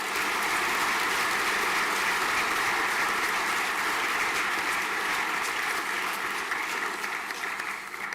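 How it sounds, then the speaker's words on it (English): Sustained, steady applause from a large audience at a senior school prizegiving ceremony, loud and even throughout, tapering slightly at the end. "Large round of applause, please."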